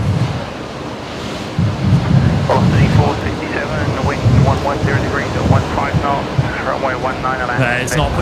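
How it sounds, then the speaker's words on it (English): Rain and gusting wind batter an outdoor microphone at Brisbane Airport, a dense, roaring wash of noise with rumbling low buffets and crackly spatter throughout. "And the rain just started again as I moved back."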